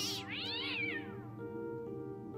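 Cat in the Fran Bow video game giving one long, loud, wavering meow that rises and falls, close and clear over a quiet low background hum.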